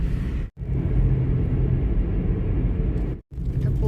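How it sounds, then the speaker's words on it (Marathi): A car is driven on a road with a steady low engine and road rumble, interrupted by two very brief dropouts. "फायनली गाडी काढली मी बाहेर"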